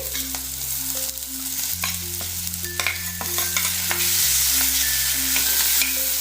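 Potatoes go into a hot pan with spices for an aloo matar bhaji, frying with a steady close sizzle while a utensil stirs and scrapes, under a constant background music tone.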